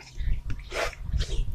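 A happy pet dog close by, giving short snuffling breaths and soft huffing grunts in a few quick bursts, quiet and without barking.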